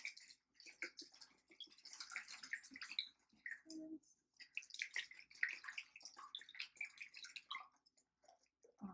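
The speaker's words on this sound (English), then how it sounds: "We're gonna go ahead and whisk that in to our milk until it is nice and smooth." Whisk clinking and sloshing as vanilla pudding mix is beaten into milk in a bowl, a soft irregular run of quick wet scraping strokes with short pauses, close and fairly quiet.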